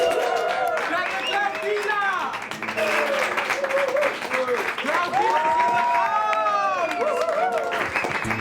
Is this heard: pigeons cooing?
no